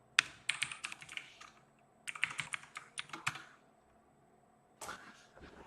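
A password is typed on a computer keyboard in quick bursts of close clacking keystrokes, a pause, then a few final taps.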